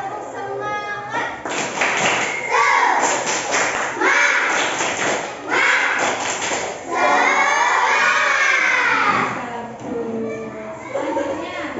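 A group of schoolchildren in a classroom doing a rhythmic spirited clap, bursts of claps and thumps with chanting voices, loud and close, pausing between rounds.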